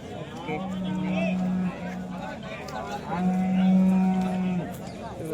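Deep, drawn-out cow moos at the Modnimb cattle market, two long calls a moment apart, with faint voices and livestock noise around them.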